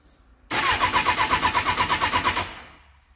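A motorcycle engine, long unused, cranks and fires on a new battery: a sudden start into a rapid pulsing run lasting about two seconds, then dying away, loud and close.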